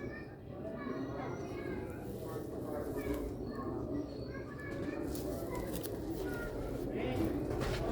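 Pure-bred Sialkoti pigeons cooing in a loft, soft repeated throaty coos close by, with someone talking over them throughout.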